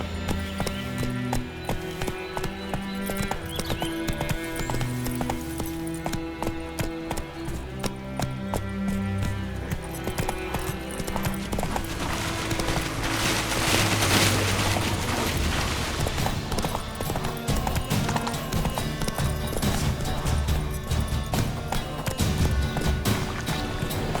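Horse hooves pound at a gallop in The Witcher 3, a continuous rhythmic clatter under layered game music and ambient sound, with a rushing swell in the middle and steady hoofbeats to the end.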